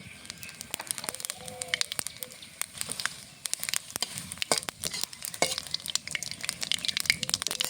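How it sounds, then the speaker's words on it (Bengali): Bay leaf, dried chilli and whole cumin crackle in hot oil as a tempering: dense, irregular pops and spits over a low sizzle, close and fairly loud throughout. "এই তেলে আমি এখন ফোড়ন দেব। একটা তেজপাতা, শুকনো লঙ্কা, গোটা জিরে"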